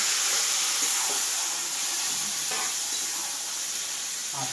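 Chechra, a Bengali mixed vegetable dish with fried bori, sizzles steadily in a pan while being slowly stirred, with a continuous loud hiss and a few soft scraping strokes throughout.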